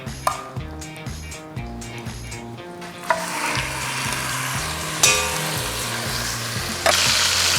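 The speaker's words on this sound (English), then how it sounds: "first I'm just going to sear it, seal the meat so that all the sides are well covered" Mutton leg (raan) searing in ghee for biryani, a steady sizzle that gets louder and brighter from about three seconds in, with sharp spikes as the meat shifts. Background music plays over the first seconds.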